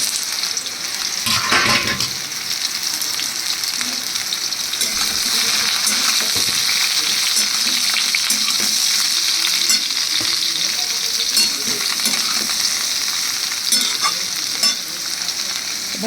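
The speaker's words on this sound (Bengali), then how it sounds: "এবার দেখো, এর মধ্যে আমি দিয়ে দিচ্ছি ঝিঙেগুলো।" Ridge gourd pieces frying in oil in a wok, a continuous loud sizzle with a burst of hissing as they go in, followed by intermittent stirring knocks and scrapes, close and without talk.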